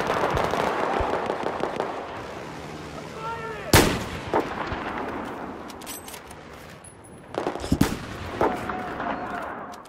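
Sniper rifle fire in the video game Battlefield 4: one loud, sharp shot mid-clip and a closer cluster of cracks later, over rumbling battle noise and scattered distant gunfire.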